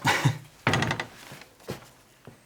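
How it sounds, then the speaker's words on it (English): A stiff door in an abandoned hotel is forced open: a few heavy wooden thunks and scraping shoves, the loudest at the start, then fainter knocks, close by with no talk. "Bit of a stiff door."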